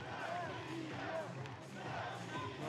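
Home crowd at a beach soccer superfinal between Russia and Switzerland on a sunny Sunday night, a steady roar of cheering and chanting filling the air, with a commentator talking over it.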